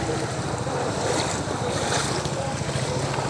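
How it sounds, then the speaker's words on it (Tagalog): Heavy water surges and roars continuously during a typhoon, with strong wind buffeting the microphone throughout. "Grabe ang laki oh. Ang laki ng tubig."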